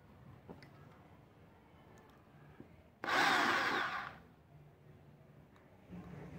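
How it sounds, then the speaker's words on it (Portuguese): A short burst of an electric drill whirring for about a second, loud and close, with quiet room sounds before and after. "Furadeira."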